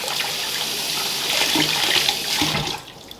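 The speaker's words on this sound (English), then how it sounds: "So we'll just wash those apples up." Apples are washed under a running kitchen tap, a loud close rush of water splashing steadily for a few seconds before cutting off at the end.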